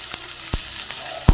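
Green chillies and onions fry in about two tablespoons of oil in a kadai, a bright continuous sizzle with a few soft spoon scrapes and taps against the pan, close and without speech.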